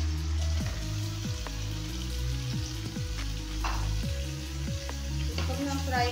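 A kilo of chicken sizzles in a pan with softened tomatoes, giving a steady, close frying hiss and crackle with faint clinks, over a low tonal background hum.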